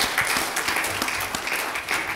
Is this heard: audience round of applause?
yes